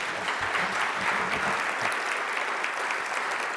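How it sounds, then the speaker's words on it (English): Steady, dense audience applause fills the room at an anniversary celebration program, a continuous even roar of many hands clapping at close range without pause. "Let's give Mick another big round of applause."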